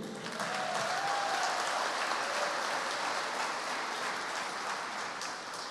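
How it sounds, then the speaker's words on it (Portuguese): Congregation applause in a church service for pastor Cleiton, a broad, even roar of many hands clapping at moderate distance, sustained and steady with a brief faint voice rising within it. "aplauso pela vida do pastor Cleiton"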